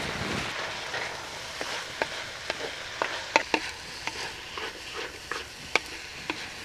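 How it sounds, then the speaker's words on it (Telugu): Onions and curry leaves fry in a pan for a Kerala-style fish fry, a steady close sizzle broken by repeated sharp clinks and scrapes of a spoon stirring against the pan. "మధ్యలో ఇప్పుడు ఒకసారి కరేపాకు వేసి మళ్ళీ బాగా కలుపుకుందాం."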